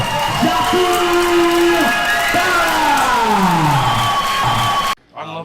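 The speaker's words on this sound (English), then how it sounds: "let's cheer up for Ahmed" A loud crowd cheers and whoops for an MMA fighter, with sustained shouts, rising and falling voices and applause close by, cutting off abruptly at the end.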